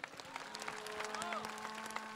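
A crowd applauds at an open-air civic education rally in a square, a steady wash of many hands clapping with scattered louder claps, heard at a modest distance.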